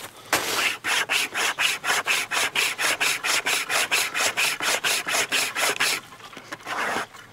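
A small CRKT survival saw, the wire type carried in a paracord bracelet, cuts through wood in steady back-and-forth rasping strokes, about twenty regular pulses, close and loud with no talking.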